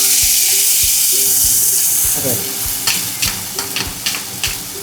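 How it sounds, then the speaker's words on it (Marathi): Onion and tomato puree hitting hot oil with garlic for a fish curry, a loud close sizzle followed by rhythmic spoon scrapes and taps against the pan, with no talking. "आता मी कांदा आणि टोमॅटोची प्युरी टाकते त्यामध्ये"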